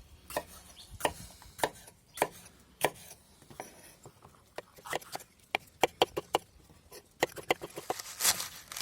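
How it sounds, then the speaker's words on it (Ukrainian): A knife chops leek on a board with a string of sharp, close knocks in an irregular, quickening rhythm and a few brief pauses. "Чистимо парчик. Зараз будемо його нарізати."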